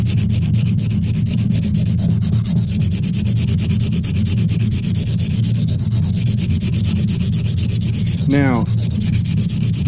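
Steady rubbing and grinding strokes of sharpening on an oiled silicon carbide sharpening stone, a continuous loud scraping with a shifting pitch that runs throughout. A single word is spoken briefly near the start.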